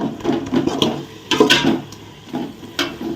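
Masala paste for egg biryani is stirred in a pan, with a series of close, uneven scraping and rubbing strokes and no talking.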